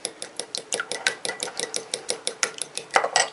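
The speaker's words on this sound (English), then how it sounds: "I'm just going to whisk this together" A whisk clinks rapidly and rhythmically against a bowl, beating egg with green food coloring in a steady stream of bright metallic taps, close and clear.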